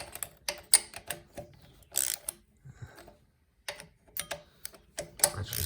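A preset calibrated 25 newton-metre torque wrench tightening bolts on a Harrington 110v rail generator, giving short bursts of sharp ratcheting clicks separated by brief pauses.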